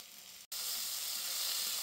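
Chopped tomato and green chili hit hot onion in a pan, and after a split-second break a bright, steady sizzle carries on, close and alone.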